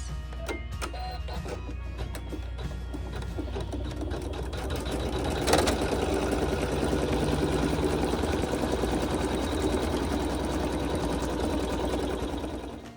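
An embroidery machine sews satin stitches on a hooped quilt block, a quiet, rapid, even mechanical whirr with a fast needle rhythm running steadily throughout, with no voices.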